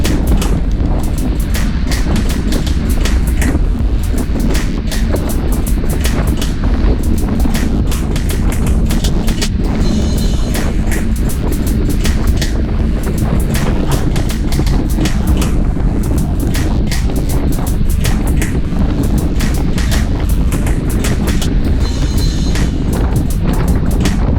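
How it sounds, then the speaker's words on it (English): Strong wind from the west buffets a group of cyclists riding uphill near Lake Conroe North, a loud, continuous roaring rumble with gusty bursts and clattering crackles throughout. "the wind is pounding us from the left, from the west"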